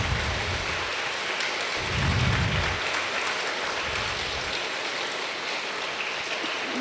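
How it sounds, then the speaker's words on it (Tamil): Steady, dense applause from an audience after Sriranjani's musical rendition of the Kamba Ramayanam at a student Kamban festival, a continuous wash of clapping that holds for the whole stretch. "அவங்களுக்கு ஒரு பெரிய கைத்தட்டு கொடுத்துடலாமா?"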